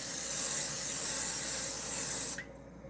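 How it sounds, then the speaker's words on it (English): Cooking spray hisses steadily onto a pan before breading chicken, a loud continuous aerosol spray close by that cuts off sharply near the end, with no talking. "We're gonna spray this pan right here."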